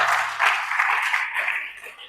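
A church congregation applauds together in a steady, dense wash of clapping that stays fairly loud and even for about two seconds.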